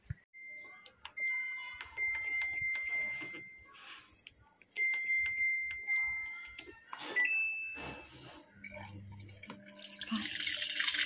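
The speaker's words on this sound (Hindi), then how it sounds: "चलो पानी आने लग गया है" Water gushes steadily from a tap after an electric water pump is switched on at a home in hot weather, a continuous close splashing flow with a brief whine and clatter partway through and louder hissing spray toward the end.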